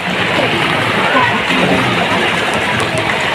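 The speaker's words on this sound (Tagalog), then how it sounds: "Lakas sa tubig, oh." Spring water gushes in a strong, steady flow, splashing loudly and continuously close by with no break.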